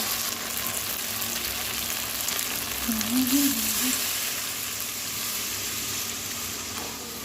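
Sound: water added to sizzling cauliflower fish curry in pan

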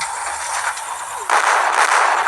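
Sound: cylinder firecrackers exploding

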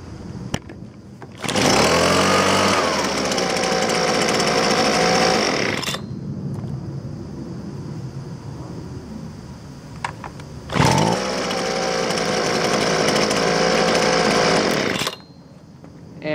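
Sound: Husqvarna 125B leaf blower engine warm-starting

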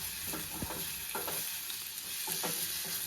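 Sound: stirring spicy Kolhapuri-style curry in pan

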